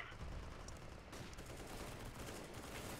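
Rapid bursts of gunfire from a competitive first-person shooter match fill the clip, dense and continuous with no pauses, heard alone without talk.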